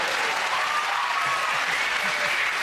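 Studio audience applause on a comedy panel show, loud and close, a dense, steady roar of clapping that fills the entire stretch without pause.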